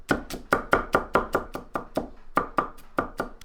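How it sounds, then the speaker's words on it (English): A knife finely chops crushed garlic cloves on a cutting board, giving a steady run of about a dozen crisp, close knocks at a quick, even rhythm, with no talking. "Take 6 garlic cloves, crush them, then finely chop them."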